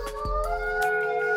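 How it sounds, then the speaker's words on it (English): Wolves howl in long, steady, sustained tones that carry from a moderate distance, with no other voices present. "It was when the wolves started howling."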